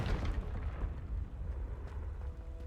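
Confringo blasting spell going off in a Harry Potter video game, a rumbling burst with a heavy low-end boom that trails into a steady muffled roar.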